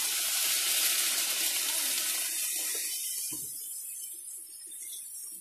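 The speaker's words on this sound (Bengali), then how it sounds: "এবার দিয়ে দেবো জল।" Water pours steadily into a pan of chicken curry cooking with spices and oil, a continuous hissing gush that fades toward the end.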